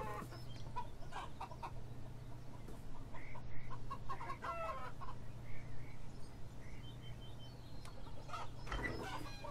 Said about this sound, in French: En fait, c'est des poules.